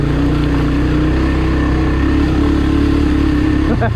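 A Honda Big Red 250es three-wheeler engine runs loud and close while riding off-road, a continuous throaty drone that holds steady with slight shifts in pitch as the throttle changes.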